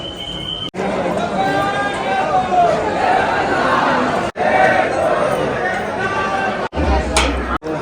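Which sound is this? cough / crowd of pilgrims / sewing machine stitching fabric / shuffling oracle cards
crowd of pilgrims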